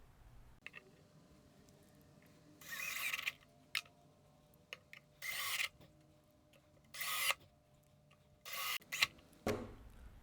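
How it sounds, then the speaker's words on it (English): A power driver sinks 3-inch deck screws through a 3/4-inch floor flange into pre-drilled wood for a DIY leg press, in four or five loud, close, half-second whirring bursts separated by quiet pauses. "Now we are going to install our 3/4 inch floor flange using 3-inch deck screws right here in the center."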